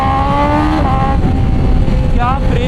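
A BMW S1000RR superbike engine screams up through the gears, loud and close, pitch climbing sharply with quick shifts.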